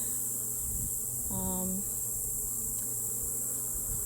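Honeybees hum steadily in an opened hive during an inspection, a faint close drone that runs throughout, with a brief tonal buzz partway through.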